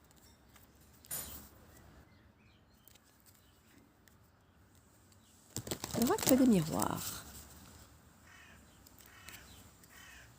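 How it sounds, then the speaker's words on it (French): Birds call outdoors in a short, bright burst midway through, faint and fairly distant, while someone speaks French nearby. "Je sais pas si vous entendez les petits oiseaux aussi."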